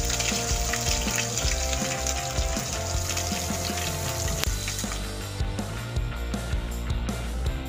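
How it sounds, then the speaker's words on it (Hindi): Coconut masala and onion frying in a pot of hot oil with whole spices, a steady dense sizzle with faint stirring and scraping throughout, no talking. "फिर ये मसाला डाल देंगे खोपरे का और प्याज।"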